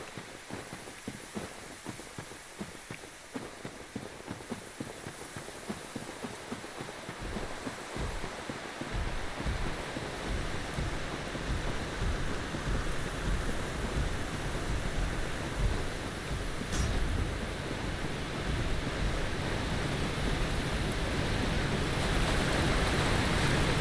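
Waterfall in the video game Dark Souls Remastered, a broad steady rushing roar of water that swells louder after the first few seconds and continues alone and unbroken.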